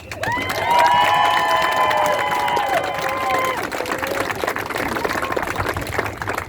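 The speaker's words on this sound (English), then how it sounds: "they deserve a round of applause as well" A crowd claps and cheers outdoors at a protest march in Los Angeles, sustained applause with whistles and shouts mixed in, fairly loud and steady throughout.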